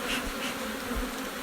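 Honeybees drone around wooden hive frames lifted from an open hive, a dense, continuous close-up buzz of many insects with pitch shifts as individuals pass near.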